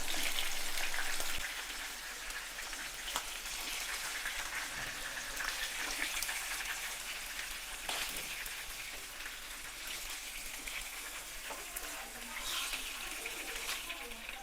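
Fish fry in hot oil in a home kitchen for a fish gravy, a steady loud sizzle and crackle that carries on without a break and sits close.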